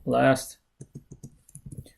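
Typing on a computer keyboard while working through a subnetting example, a short burst of clicky keystrokes in a quick uneven rhythm, following a brief spoken word at the start.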